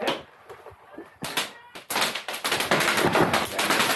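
Airsoft gunfire during a skirmish with a Novritsch SSR90: rapid bursts of sharp cracks and snapping pellet impacts, dense and loud in the second half, following scattered earlier shots outdoors.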